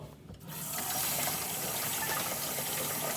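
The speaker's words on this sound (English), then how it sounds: "let me wash my hands" Running tap water pours steadily as hands are washed under it at a kitchen sink, a close, continuous gush with no talking.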